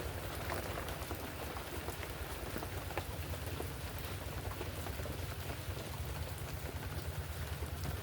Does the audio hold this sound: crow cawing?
no